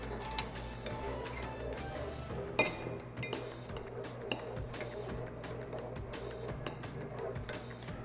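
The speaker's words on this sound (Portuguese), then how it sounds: "enquanto a gente tá mexendo a nossa panela no leite" Soft scraping and light clinks of a utensil stirring milk in a pan, steady and close, with an occasional sharper tap and no talking.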